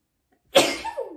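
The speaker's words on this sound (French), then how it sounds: "Excusez, je vais comme éternuer." A single sudden sneeze-like burst, close and fairly loud, with a breathy tail trailing off over about half a second.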